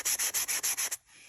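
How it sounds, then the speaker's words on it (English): Sandpaper rubbing a wooden drum shell during refinishing: six or seven loud, even back-and-forth strokes in steady rhythm, close up, then stopping into quiet room tone. "now I'm going to sand it a little smoother"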